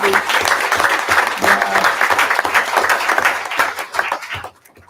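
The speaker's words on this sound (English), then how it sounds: "Let's hear a huge round of applause to Serenity." Audience at a school district board meeting applauding a student, dense sustained clapping that fades out at the end, with a voice briefly heard over it.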